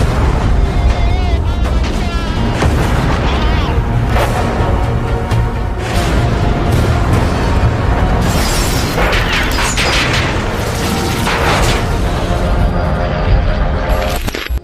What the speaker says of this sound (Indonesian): mereka langsung disambut dengan tembakan senjata anti pesawat Jerman yang merupakan logam panas yang mudah